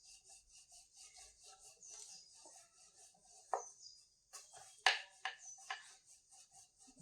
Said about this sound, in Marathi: इथं मी ही पिठी घेतलेली आहे मैदा, त्याच्यात हे बुडवून आता हे आपण लाटून घेऊया